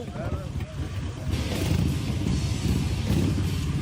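Harley-Davidson motorcycle engine revved up from idle into a loud, rough, sustained roar, recorded close by on the street.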